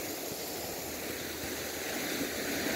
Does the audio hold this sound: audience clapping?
no